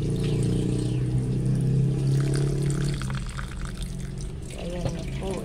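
Tap water runs steadily into a cooking pot of rice for porridge, a continuous splashing hiss that eases off partway through. A voice is heard near the end.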